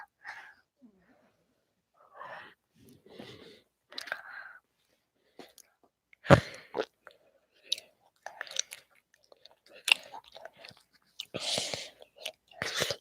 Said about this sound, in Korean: 먹방할 때는 말 안 하고 마이크에 씹는 소리만 계속 들려주면 더 재밌어.